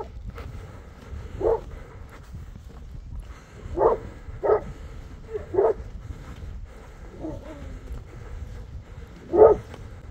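A pack of Kangal dogs barking in open countryside, with several separate barks and yelps scattered across the clip at moderate distance over a low background rumble.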